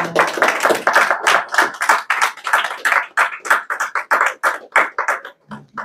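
A church congregation applauds together, many hands clapping close and loud in a steady rhythmic beat that continues for several seconds before stopping.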